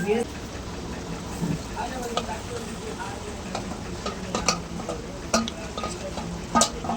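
Brinjal, mango and dry fish curry bubbling in a pot, a steady close simmering hiss with scattered soft pops and occasional sharper clicks throughout.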